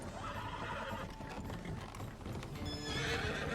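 Several horses ridden by players in Red Dead Redemption 2 roleplay clop steadily closer, hooves clattering continuously with an occasional whinny, loud and near throughout with no talk.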